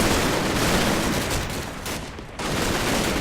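Heavy firefight gunfire in the wargame Combat Mission Battle for Normandy, a loud continuous roar of overlapping rifle and machine-gun fire that dips briefly, then surges back.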